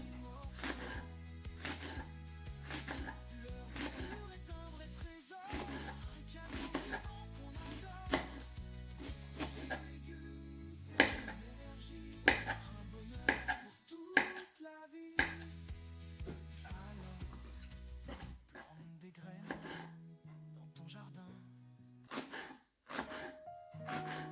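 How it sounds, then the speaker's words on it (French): A knife finely chopping endives on a board, a fast string of quiet, crisp cuts with brief pauses, over soft background music. "je vais les couper très très fin"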